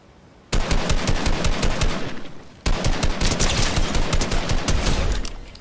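Weapon fire in the video game Fortnite, two long, loud stretches of rapid, closely spaced shots, one after the other with only a brief gap between them.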